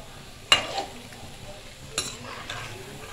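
Palm fritters (taler bora) frying in oil give a faint, steady low sizzle, broken by two sharp metallic clinks of a utensil against the pan.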